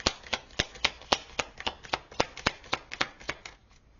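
Runic oracle cards being shuffled by hand, a close series of about fifteen crisp riffling snaps in quick even rhythm, thinning out at the end.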